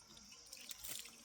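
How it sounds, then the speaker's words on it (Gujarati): Water poured into a drinking trough in a cattle shed on a rural farm, a steady close splashing stream running throughout without talk. "તો ચલો અત્યારે હું પાઉં છું ગોવાળિયામાં પાણી"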